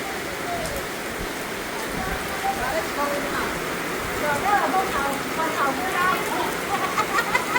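A heavy rainstorm pours over rice fields, a continuous dense roar of rain on surfaces with louder surges later on, while a person talks over it.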